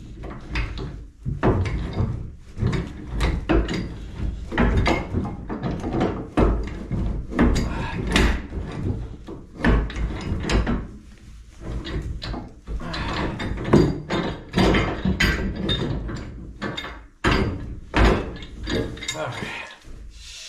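Wrench cranking loose a badly leaking gas line fitting, producing repeated ratcheting clicks and metallic clunks in uneven bursts up close, with a few short pauses between strokes.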